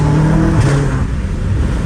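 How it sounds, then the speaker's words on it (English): A BMW M5 Competition fitted with downpipes roars loudly and close by, its engine note dipping briefly at a gear shift while the turbos whir, with no speech over it. "the turbos sound insane when you shift"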